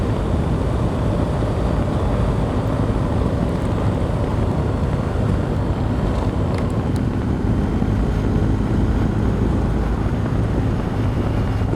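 Strong wind buffets the microphone in a steady, loud roar during a roadside stop on a motorbike tour from Dunkirk to the Nurburgring on a BMW R1250GS Adventure, with no other sounds standing out.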